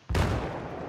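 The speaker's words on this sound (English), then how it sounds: "That's his fucking gun going off." A single sharp gunshot from the Battlefield 3 video game, on the Seine Crossing map in team deathmatch, bursting in suddenly and loud, then ringing out with a broad decaying roar.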